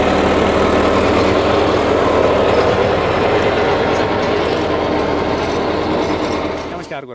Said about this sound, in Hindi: ये देखो बिल्कुल स्मूथ, बिल्कुल लोड फ्री जो है ट्रैक्टर चल रहा है।